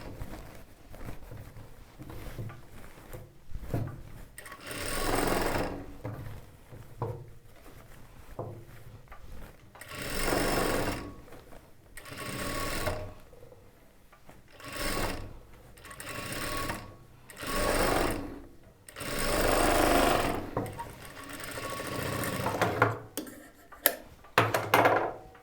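A sewing machine stitches the lining of a chudidar top in repeated runs, its close whirring hum rising and falling as each seam is sewn, with short pauses and small handling clatter between bursts.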